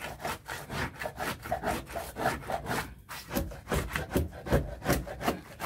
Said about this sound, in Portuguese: Aí eu peguei o formão para ajudar ele.